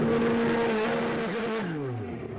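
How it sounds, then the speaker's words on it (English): A DTM race car driven by Martin Tomczyk at Spielberg in 2013 pulls into the pit garage, its engine note loud and close, then dropping in pitch as it slows near the end. "Martin Tomczyk drives it into the garage"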